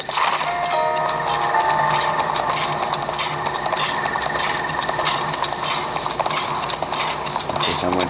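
Horse hooves clip-clop at a steady, close trot in The Legend of Zelda: Breath of the Wild on Switch, sounding continuously over game music and ambience for several seconds.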